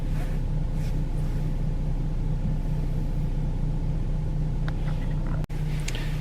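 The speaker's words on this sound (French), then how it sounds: "je suis dans la voiture, je vais la faire chauffer un peu." A car engine idles steadily inside the vehicle while warming up on a frosty morning in a frozen parking lot, a continuous low rumble with a constant hum throughout and a brief dip near the end.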